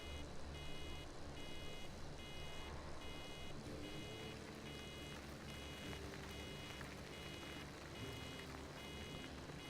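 Reversing beeps from a vehicle in Farming Simulator 17, a regular evenly spaced electronic beeping repeating steadily over a constant engine rumble.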